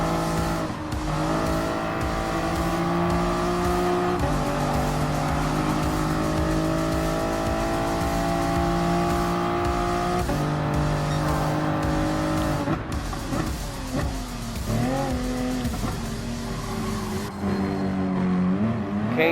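Race cars in Gran Turismo Sport, among them a Ferrari and a Toyota FT1, roaring continuously with engines revving through gear shifts and cars passing, loud and sustained with occasional tire squeal and no talking.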